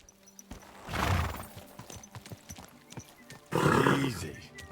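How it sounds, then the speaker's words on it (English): A horse in the medieval game Kingdom Come Deliverance 2 gives a loud whinny and snort, then hooves clop in a brief scattered patter before a second loud neigh-like burst, with someone talking over it. "Where's my horse?"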